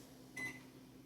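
A microwave oven gives a single short, high electronic beep while its timer is set to six minutes for a teriyaki chicken meal. The beep is faint and close, over a low steady hum.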